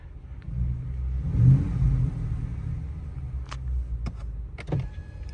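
A Ford F-series pickup fitted with a WWP dual exhaust revs, giving a deep low rumble that swells and eases, recorded nearby with a few sharp clicks toward the end.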